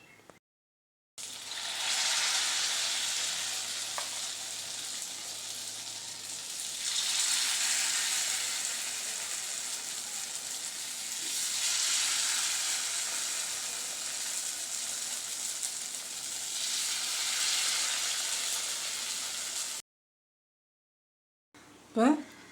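Suzhiyam frying in hot oil in a paniyaram pan, a steady loud sizzle that swells and eases in long waves, with brief quiet gaps at the start and end.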